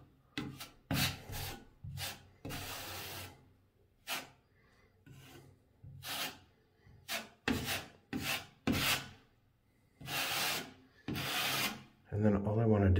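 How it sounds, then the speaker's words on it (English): A small drywall knife scrapes joint compound across a primed drywall repair, pressing it into tiny air-pocket holes in a series of short, close, raspy strokes separated by quiet pauses. "I just get a little drywall knife and I put a bit of mud on it"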